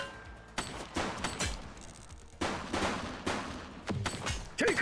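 Gunfire in the police video game The Precinct: several loud, close bursts of rapid shots in quick succession, separated by short pauses.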